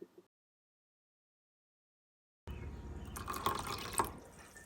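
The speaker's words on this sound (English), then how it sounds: "Now we're going to add 2 parts of the liquid into the starch." Liquid pours into starch in a container, a soft trickling and splashing that starts after a silent pause and runs for about two seconds, faint and close.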